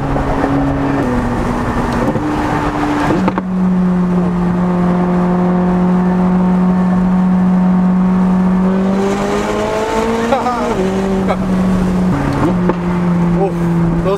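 A McLaren 600LT Spider's engine drones loudly and continuously from inside the cabin, pitch shifting through gear changes and climbing as it accelerates.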